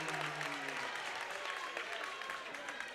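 Wildcat fans applaud at a girls' high school regional final basketball game, a steady wash of clapping and crowd noise in a gym, with voices underneath.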